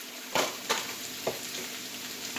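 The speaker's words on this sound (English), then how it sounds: "I'm going to add spinach and then use the last little bit of my olive oil that I had remaining" Spinach fries in olive oil with a steady, close sizzle, broken by a few sharp clacks of stirring against the pan, and no one speaking.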